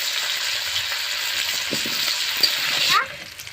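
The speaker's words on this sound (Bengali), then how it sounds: "আলুটা খুব ভালো করে ভেজে নিয়েছি" Whole new potatoes sizzle steadily in hot oil for a home-style mutton curry, a loud, even hiss that cuts off abruptly near the end.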